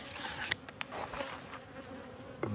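A strong honeybee colony hums steadily in an opened hive, a faint, close, continuous buzz with occasional individual bees passing nearby and small clicks from handling the hive.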